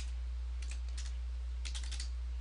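Computer keyboard typing in two short bursts of quick, light clicks, close and clear over a steady low hum, with a pause between the bursts.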